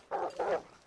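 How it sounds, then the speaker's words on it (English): A wolf in The Long Dark, two drawn-out whining howls close by with a short gap between them, standing alone without any talk. "I hear a wolf."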